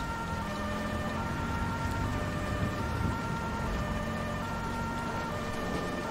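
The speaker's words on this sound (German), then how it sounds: "Auch wenn ich Sirene anhab." A police car siren in the video game GTA V wails continuously, its steady tonal cry sitting over a low engine rumble with no voices.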